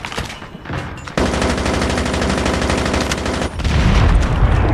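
Dense, rapid automatic gunfire from a Call of Duty Mobile match, a steady loud burst of shots lasting a couple of seconds, with heavier booming shots and game noise before and after.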